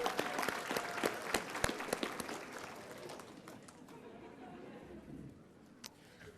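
Graduation ceremony audience claps for the graduates' families, scattered sharp individual claps over crowd chatter that thin out and fade to a quiet murmur after a few seconds.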